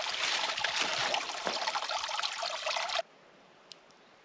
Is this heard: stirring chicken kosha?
no